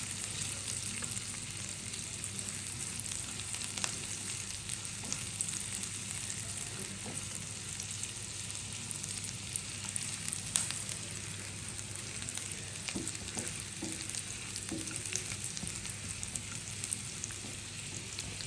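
Spicy noodles stir-fry in a hot pan with a continuous, even sizzle and occasional scraping clicks of stirring, close and steady, with no voices.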